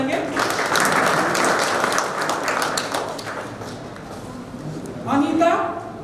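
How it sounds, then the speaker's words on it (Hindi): Applause rises from the audience at an anniversary celebration, a broad patter of many hands that fades midway and swells briefly again near the end, with a voice speaking over it. "फूड रेसिपी फर्स्ट रही थी, तो इनके लिए भी आप तालियां बजाएंगे"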